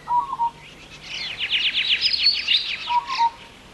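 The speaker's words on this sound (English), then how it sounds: "The quiet doodle-doo call of the peaceful dove is one of the most distinctive sounds of the Australian bush" A peaceful dove in the Australian bush gives its soft doodle-doo call, a rhythmic cooing phrase close by and clear, bracketed by brief higher notes, with no other sounds.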